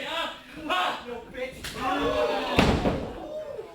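A wrestler slams an opponent down onto the ring mat at a live WrestleForce show in Chelsea: one heavy, sharp thud lands about two-thirds of the way through, under excited commentary and crowd noise.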